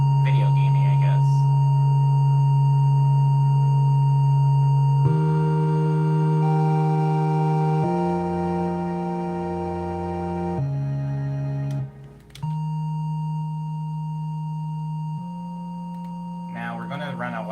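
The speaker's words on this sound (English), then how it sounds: "I'm going to make a very simple triangle wave." Synthesized raw triangle wave playing a slow sequence of sustained chords, each held for a few seconds before shifting, with a clean, pure, chiptune-like tone and a brief dropout near the end.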